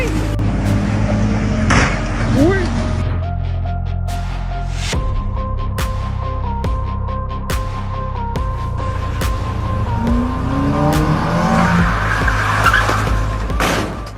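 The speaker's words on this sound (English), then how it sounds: "Lamborghini also gets its own face-to-face with the wall." A Lamborghini supercar skids with squealing tires and a humming engine before crashing into a wall, with a sharp impact and engine tones continuing close and loud throughout.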